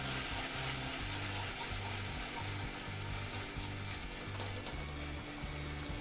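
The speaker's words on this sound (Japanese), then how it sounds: "トマトペーストを入れるときはここでちょっと炒めてトマトの香りを出します" Tomato paste frying in a pan with ham for a tomato cream pasta, a continuous dense sizzle with light stirring, close and steady, no voices.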